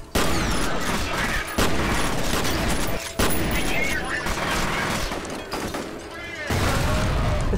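Grenade explosions and heavy gunfire in the shooter video game F.E.A.R., loud, dense, chaotic bursts and booms with brief gaps between volleys, filling the whole stretch.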